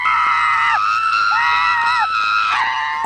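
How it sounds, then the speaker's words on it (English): High-pitched, shrill screaming from the 1989 film Blood Brothers, several layered wails rising and falling in overlapping waves, loud and continuous for the whole stretch. "This high-pitched screaming, and at one point it's like layered."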